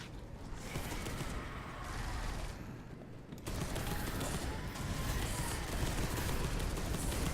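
Dense rapid gunfire from the video game Space Hulk Deathwing rattles on almost without a break, briefly dipping before resuming louder, with voices faintly underneath.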